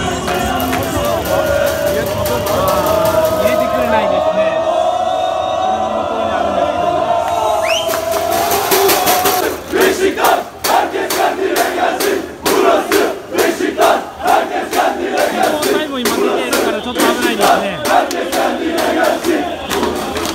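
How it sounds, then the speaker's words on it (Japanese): Large crowd of Beşiktaş football fans at a championship celebration in Turkey, loud sustained collective booing and shouting, later broken by rhythmic chanting and clapping bursts, dense and close throughout. "今そこに行けないので大ブーイングが今起こってますね。"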